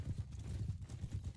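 Horse hooves from mounted horse archers in Mount and Blade 2 Bannerlord, a quick, steady clip-clop of galloping hoofbeats, close and moderately loud, with no talking.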